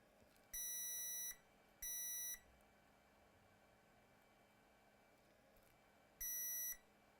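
A multimeter set to diode mode sounds three sharp electronic beeps, two close together early and a third after a pause, each steady and clear over faint background hiss while a laptop is being repaired.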